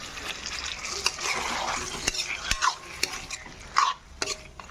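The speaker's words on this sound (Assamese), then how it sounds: "এতিয়া পূৰা ভাজিম" Meat is stirred and fried in a pan on a home stove, with a steady sizzle under repeated scraping clicks of a utensil against the pan, close and fairly loud.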